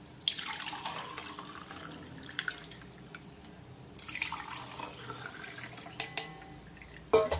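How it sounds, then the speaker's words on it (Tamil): Tender coconut water soaked with fenugreek seeds being strained, with steady trickling and dripping liquid in two pouring bursts and a few sharp clinks near the end, close and moderately loud with no talking. "இப்போ அந்த இளநியை வந்து வடிகட்டுவோம்"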